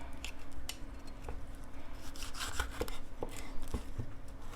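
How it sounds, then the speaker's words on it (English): A sharp knife slices down the sides of a green bell pepper, making crisp, irregular cutting and rubbing sounds that are fairly faint, over a steady background hum. "you're going to cut the sides"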